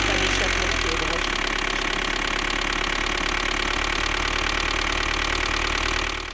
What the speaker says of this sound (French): Alors là, c'était le premier essai moteur.